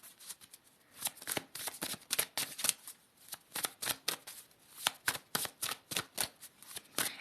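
Cards are riffled and shuffled repeatedly up close, a crisp fluttering that comes in quick rhythmic bursts with brief pauses between.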